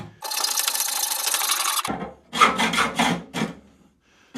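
A hacksaw cuts 3/8-inch threaded rod clamped in a vise, one long continuous rasping stroke followed by several shorter, choppier strokes, close and fairly loud with no talking.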